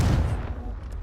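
A Confringo blasting spell from Hogwarts Legacy goes off in one short, heavy explosive burst, loud at the start and then fading into a rumbling tail.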